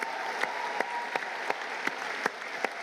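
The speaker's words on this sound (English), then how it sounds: "let's clap for that" Audience at a university speech breaks into applause; a steady wash of crowd clapping with a few sharper, closer claps popping out at regular intervals.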